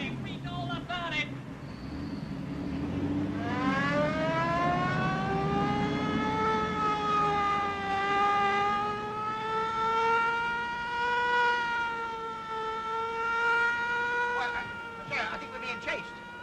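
A car siren wails in long rising and falling sweeps from a 1930s British comedy, loud and steady throughout and mixed with engine rumble and some background voices.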